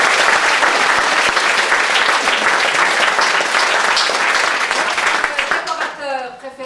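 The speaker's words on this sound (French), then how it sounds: "nous aimerions que vous réserviez quelques applaudissements pour notre technique ce soir" A theatre audience applauds the technical crew after a stage play, loud and dense clapping that fills the room evenly before thinning out as a voice begins to speak near the end.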